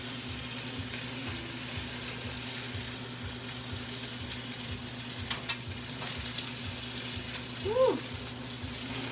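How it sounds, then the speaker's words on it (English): Thick pork chops fry in oil with a steady close sizzle and crackle, a low rhythmic pulsing beneath, and a few brief clinks and a soft squeak near the end. "them pork chops is going to absorb that oil when it's frying"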